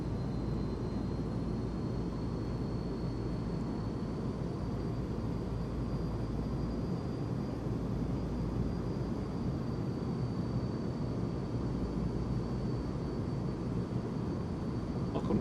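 Steady turboprop drone from the Blacksquare King Air 350 in Microsoft Flight Simulator 2020, a continuous broadband roar with a faint high whine, even and unbroken throughout.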